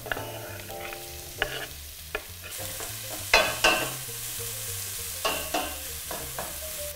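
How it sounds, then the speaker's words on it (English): Vegetables and spices for a vegan ital curry sizzle and fry in a pan close up, a steady hiss broken by clattering stirring strokes and utensil taps, with music playing underneath. "While we're gonna let that sizzle"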